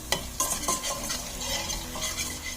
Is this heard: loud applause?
no